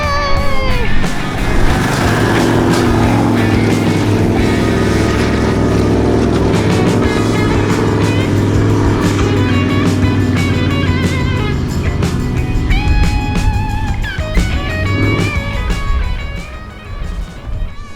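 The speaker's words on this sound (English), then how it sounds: "The tune in this V8 makes it so much fun to drive." A V8 4x4 climbs a desert sand dune in the Simpson Desert, its engine roaring loud and close under heavy throttle with rising and falling revs, the note easing toward the end.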